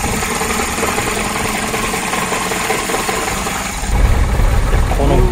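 Idling engine of an Alfa Romeo 105-series Giulia, a classic step-front coupe: a steady, close burbling idle with a loping, slightly uneven beat, growing louder and heavier near the end, no talk over it.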